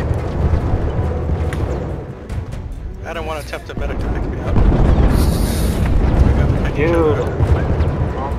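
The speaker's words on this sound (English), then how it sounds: "So many explosions!" Heavy Battlefield 1 gunfire and explosions in the Monte Grappa operation, continuous loud booms and rumbling battle noise with bursts of wind-like roar, while players talk excitedly over the fighting.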